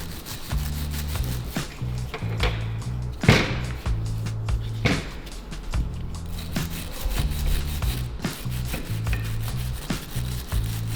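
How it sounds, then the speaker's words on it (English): A brush scrubbing a front brake caliper clean on a 2022-2026 Honda Civic during a pad and rotor change, a steady rhythmic back-and-forth rasping, close and loud, with no talking. "give it a little brush to clean off anything that's stick there"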